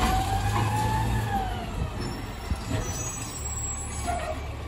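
A municipal waste collection truck idles at the curb while a worker loads cardboard into its rear hopper, giving a steady low engine rumble with a brief hiss and faint high tones over the top.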